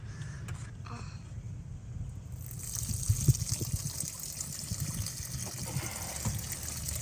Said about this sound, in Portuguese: Já tá esvaziando a caixa servida então